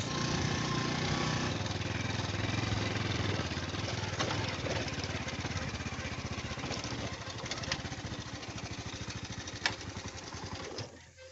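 A motorcycle engine runs steadily at close range on a village ride in Punjab. The low, continuous drone holds for several seconds, then drops away abruptly at the end.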